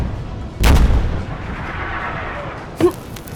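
Cannon volley sound effect in a naval battle roleplay, two sharp booming shots with rumbling tails, the first louder and the second, nearly two seconds later, shorter, over a low steady ambience.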